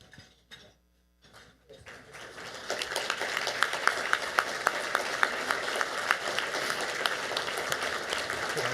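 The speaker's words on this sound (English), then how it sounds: "So can I ask all of our volunteers and committee members to please stand for a round of applause?" Guests at an annual awards gala applaud volunteers and committee members as they stand; after a near-silent start with a few soft knocks, crowd clapping swells and holds steady with some sharper individual claps.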